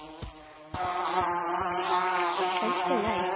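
A bee buzzing in the VR game Gorilla Tag, a loud, close, continuous droning hum that starts abruptly and wavers in pitch, with a few soft taps underneath.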